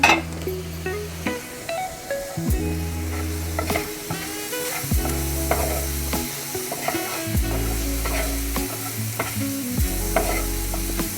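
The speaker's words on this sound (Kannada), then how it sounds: "ಇದಿಷ್ಟು ಹಾಕಿಬಿಟ್ಟು ಚೆನ್ನಾಗಿ ಫ್ರೈ ಮಾಡ್ಕೊಳ್ಳಿ." Sliced onions with turmeric powder fry loudly in a pan, a dense sizzle broken by repeated scraping strokes of a spoon stirring them, close and with no talk.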